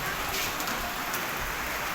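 Steady rain pouring during Typhoon Emong, a dense, even hiss of drops hitting surfaces, continuous and fairly loud with no voices.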